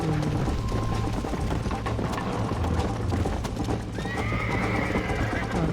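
A horse gallops with rhythmic clip-clop hoofbeats and lets out loud whinnies and neighs in the Red Dead Redemption video game, all set against constant busy background noise.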